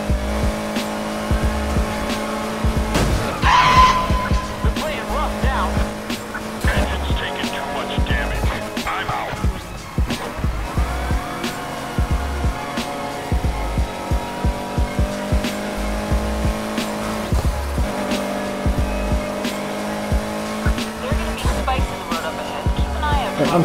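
BMW race car in Need for Speed Heat: a steady engine drone under repeated tire squeals and skids through the corners, loud and continuous over about twenty seconds of racing.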